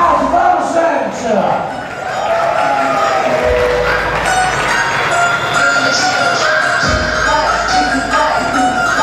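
Audience at a drag show matinee applauding and cheering, a dense continuous wash of clapping and crowd noise throughout, with a loud amplified voice carrying over it.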